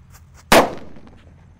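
A red Happy Flower disco firecracker goes off in a single sharp, loud bang that rings out and decays over about half a second, with quiet before it.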